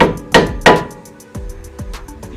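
Hammer blows staking a car axle nut on a Miata: two loud sharp metallic strikes, then three or four lighter taps ringing briefly, close up and alone.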